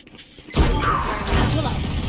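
Raze's satchel charge going off in Valorant: a sudden loud blast after a brief quiet moment, then a sustained crackling, roaring tail.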